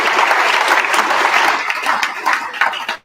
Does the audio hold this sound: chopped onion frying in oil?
no